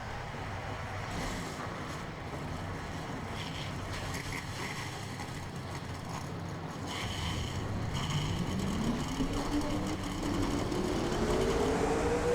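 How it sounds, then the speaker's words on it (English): Stock car engines firing up and idling together in the NASCAR Racing 2003 video game at Pocono, a loud steady mechanical rumble that swells, with one engine revving upward near the end. "Drivers, start your engines."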